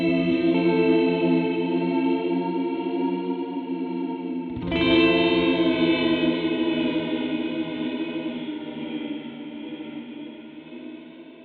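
A sustained electric guitar chord through a Red Panda Context V2 reverb pedal shimmers with a wobbling, swirling modulation and reverb, restruck midway and ringing out steadily to the end.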